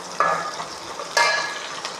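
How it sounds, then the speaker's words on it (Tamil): Sun-dried brinjal sizzles and crackles in hot oil in a home kitchen while cooking kara kuzhambu, with two sharp bursts of frying as the pieces are stirred, followed by a softer, steady sizzle. "கத்திரி வத்தல் நல்லா வதங்கி அதுலேயே நல்லா வறுத்த மாரி ஆகிடும்."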